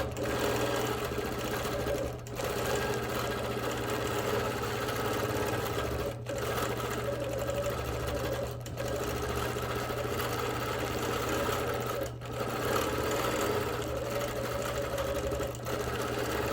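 A sewing machine quilts a wavy line across fabric, its needle motor whirring in a steady rapid rhythm with a few brief pauses, close and alone.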